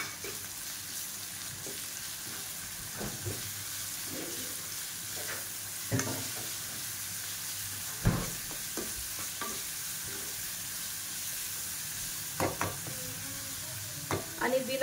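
Garlic, ginger and cumin paste sizzles steadily in hot oil, a constant hiss beneath scattered scraping knocks of a spoon stirring the pan, with no voices.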